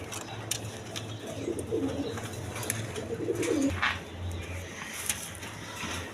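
Fieldback pigeons at a seller's stall give soft, throaty coos in two short bursts, moderately close over a low steady hum, with a few faint clicks and no talking.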